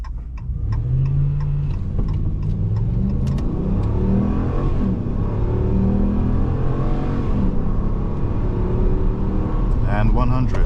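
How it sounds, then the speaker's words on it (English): A 2022 Dodge Ram 1500 pickup in sport mode accelerates hard from 0 to 60, its engine revving up through several gear shifts in a rising, falling pattern, loud inside the cab, with a voice talking over it. "But since we're in our sportiest setting, we're gonna try a quick 0 to 60."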